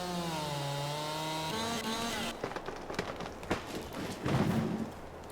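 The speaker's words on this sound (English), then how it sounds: "since I'm felling the tree towards it" Chainsaw cutting and felling a tree in the Farming Simulator 22 game: a steady, loud engine drone shifting pitch for about two seconds, then crackling, crunching impacts as the trunk falls and hits the ground.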